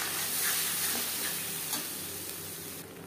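Ground cumin, pepper and tomato paste frying in oil after cumin seeds, a loud steady close sizzle with a few soft stirring scrapes that slowly eases off.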